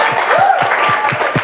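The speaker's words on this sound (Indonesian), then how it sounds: "Boleh beri tepuk tangan untuk teman yang di depan" Students in a classroom clap for a group that has just finished presenting, a short burst of close, steady applause with voices mixed in.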